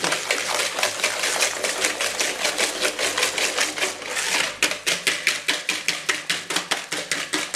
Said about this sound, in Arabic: ونخلط الكل جيدا.